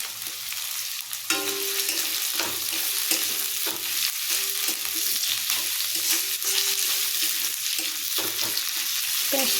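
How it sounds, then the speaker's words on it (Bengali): Mutton sizzles and fries in a pan with chopped tomato and green chili, a steady loud hiss broken by repeated scraping stirs throughout. "এবার টমেটো কোচা আর কাঁচা লঙ্কা কোচা দিয়ে দেবো"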